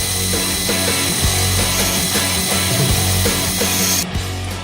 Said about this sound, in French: je vais finir à la lime